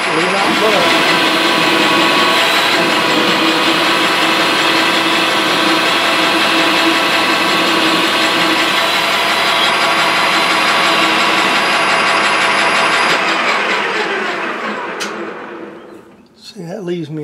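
A metal lathe making a facing cut gives a steady machine whine with a dense, harsh cutting hiss, running continuously up close, then winding down and stopping near the end.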